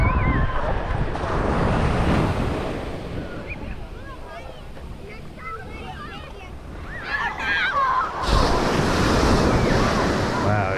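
Ocean surf breaks and crashes against the rocky coast at Acadia in Maine, with loud, steady wash and wind noise across the whole span and a fresh surge near the end.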